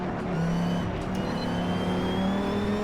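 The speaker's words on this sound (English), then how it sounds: "the car sounds good, but it's a little bit clipping on the higher RPMs" A supercar engine in a racing video game on the Nürburgring revs hard and holds high RPM, a continuous loud whine with distorted, clipping harshness at the top end, no speech.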